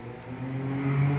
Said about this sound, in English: that ugly ass charger that just passed